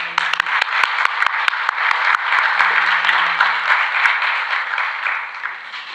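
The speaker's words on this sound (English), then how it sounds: "please help me welcome, with a huge round of applause, Mr. Abdullah" A round of applause from a conference audience welcoming a panelist at a student accountancy event, steady dense clapping filling the room for several seconds, with a few sharper individual claps standing out at the start and brief voices underneath.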